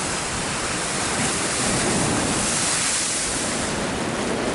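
Stormy sea surf breaking steadily on the shore, a loud, continuous broadband roar of churning waves with some wind, no voices.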